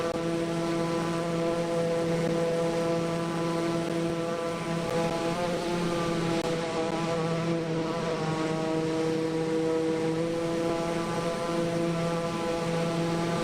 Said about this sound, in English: See the wheels come down.